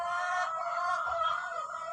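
Chickens cluck and a rooster crows at a family home, the bird calls close and fairly loud, layered and continuous over the whole stretch with no talk.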